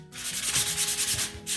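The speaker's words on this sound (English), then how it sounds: "we need to sand that to smooth it out" Sandpaper rubbing back and forth along the grain of a painted wooden sign, a close, steady run of rasping strokes with a brief pause near the end.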